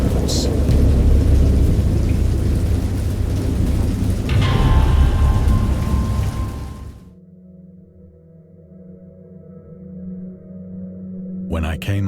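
A heavy thunderstorm roars with loud, steady rain and a deep rumble of thunder that swells, then cuts off abruptly into a quieter low hum before a brief sharp crack near the end.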